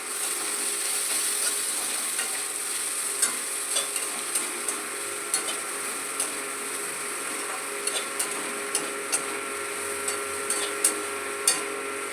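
Chilli powder, cumin powder and green chillies frying in a pan, a steady low hiss punctuated by regular clicking scrapes of a spatula against the pan; no voices.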